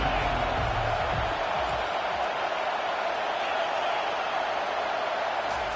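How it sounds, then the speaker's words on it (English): A college football stadium crowd roars steadily on a third-down defensive stand, a dense, continuous wall of cheering and whooping that stays loud throughout. "Decibels rising as the crowd gets behind this defense on 3rd down."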